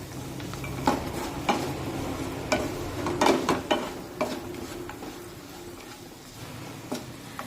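Tomatoes in a hot tempering for vermicelli upma get stirred in a wok, with soft sizzling under repeated scraping and clinking strokes of a spoon against the pan, close and moderately loud.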